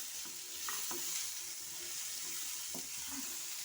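Stirring and sautéing in a pan with curry leaves and a pinch of salt while cooking a prawn roast, with soft scraping strokes and a low steady sizzle close by, no talking.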